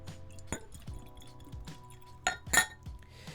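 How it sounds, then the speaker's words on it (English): Central Galactic spiced rum is poured into a glass, giving a few light glassy clinks and soft liquid glugs, with a brighter cluster of clinks near the end, close and fairly quiet. "Let's pour a glug here."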